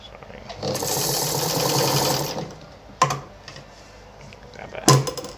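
A Meister Werke German sewing machine stitches a tight zigzag at a shortened stitch length: a fast, close rattling run of a second or two, followed by a few sharp clicks and knocks as the fabric is handled.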